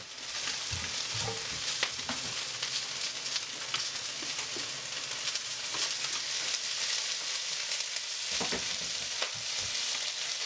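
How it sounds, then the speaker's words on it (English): Shallots and garlic frying in oil in a pan produce a loud, dense, even sizzle throughout, with occasional faint clicks of a utensil breaking through the hiss. "We're going to add the shallots and the garlic right into the pan."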